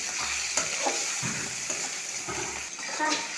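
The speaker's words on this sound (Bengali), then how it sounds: "পেঁয়াজ টমেটো নেড়ে চেড়ে ভাজা হয়ে এলে" Onion and tomato fry in oil in a pan and are stirred while cooking for potoler dorma. A steady sizzle runs under intermittent scraping stirs, close up, with no talking.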